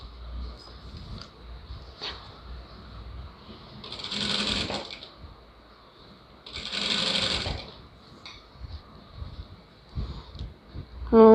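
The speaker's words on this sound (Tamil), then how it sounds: "நம்ம எடுத்து வச்சு தைக்கணும்." A sewing machine stitches a lining blouse in two short bursts of whirring needle runs, separated by quiet pauses with light handling of fabric.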